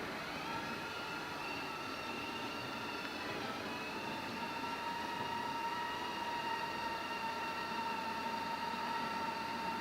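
A Eufy X8 robot vacuum drives back to its charger with a steady whirring motor and brush noise, faint and continuous, with a thin whine running throughout.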